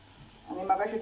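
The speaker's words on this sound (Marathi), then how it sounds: "लसूण मगाशी मी थोडा लसूण ठेवला होता, तो मी आता फोडणीला घालते." Garlic hits hot ghee with cumin for a dal tadka tempering, bursting into a sudden crackling sizzle halfway through after a quiet start, close and moderately loud.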